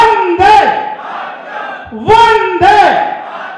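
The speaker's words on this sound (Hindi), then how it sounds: "एक दफा मुट्ठी बंद करके जोरदार जयकारा बोले, भारत माता की" A crowd at a community summit in Udaipur answers a leader's call with the patriotic chant Bharat Mata ki Jai, several loud, ringing shouted voices rising in unison in repeated bursts.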